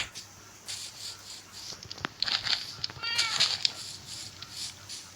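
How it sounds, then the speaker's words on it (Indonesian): A cat meows a few times in a survival video game, the calls close and fairly clear over a soft background hiss and faint clicking. "Woi, ini kucing."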